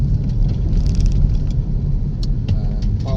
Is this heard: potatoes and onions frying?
no